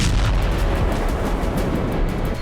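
Rocket explosions strike a residential area during a barrage of rocket attacks, with loud, continuous low booming and rumble filling the whole stretch.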